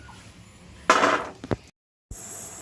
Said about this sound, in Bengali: কতটা মুচমুচে হয়েছে শব্দ শুনে নিশ্চয়ই বুঝতে পারছো